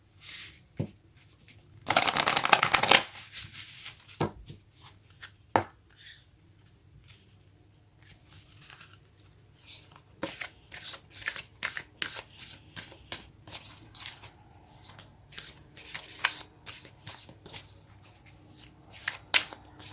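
Moonology oracle cards shuffled close by, starting with one loud dense riffle, then quiet handling, then a long run of quick crisp card slaps and flutters, with no talk.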